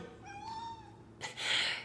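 A single drawn-out cat meow sounds close and fairly soft, followed by a brief burst of hissing noise.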